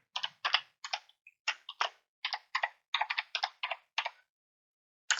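Keys on a computer keyboard are tapped in quick, separate clusters as an SSH private key passphrase goes in, crisp close clicks with short gaps between them, ending in one last press.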